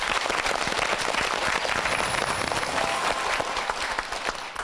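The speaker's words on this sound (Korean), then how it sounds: "박수 청해보죠." A studio audience claps loudly and steadily throughout, a dense, close, continuous burst of many hands with no voices on top, easing slightly toward the end.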